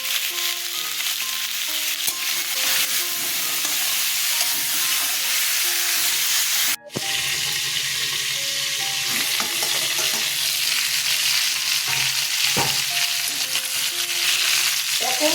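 Loud continuous sizzling of turmeric and spices frying in hot oil, close up, with occasional stirring scrapes and no voices.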